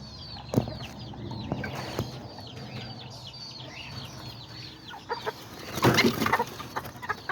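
A small hen and a little white rooster cluck in a run of short repeated calls, fairly close, with a few louder bursts of clucking and a brief flutter toward the end.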